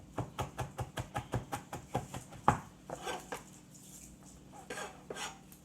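A knife chops a garlic clove on a cutting board in quick, steady, evenly spaced taps, close and crisp at first, then slowing into looser, softer strokes.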